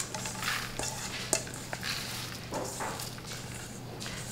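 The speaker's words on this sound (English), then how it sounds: "I'm gonna mix it up on here." Grated zucchini and oats mixed by hand in a small bowl, a soft continuous squelching and stirring with a few faint knocks against the bowl, close, over a low steady hum.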